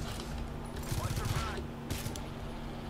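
Gunfire from the GTFO video game, level R3A3, aimed at an enemy's legs: a burst of rapid shots around the middle, a second brief burst later, all over a steady low game hum with a faint voice mixed in.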